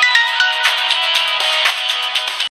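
A mobile phone ringtone rings for an incoming call, a bright repeating electronic melody that plays loud and close on its own for about two and a half seconds, then cuts off abruptly.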